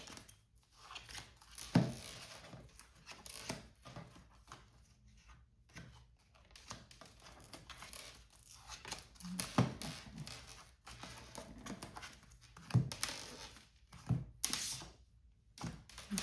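Tarot cards being shuffled during a reading: a run of soft papery riffles and slaps comes in uneven bursts, with a few sharper flicks standing out. The sound is fairly close but low in level, with no talking.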